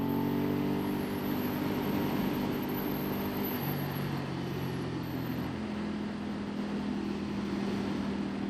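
Ducati Hypermotard 939 SP motorcycle, 2018 model, with its raw-sounding exhaust system: a steady, loud engine drone with shifting harmonic tones as the revs change while riding, continuous throughout with no talk.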